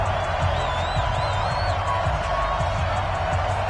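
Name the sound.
stadium crowd cheering in EA Sports NFL video game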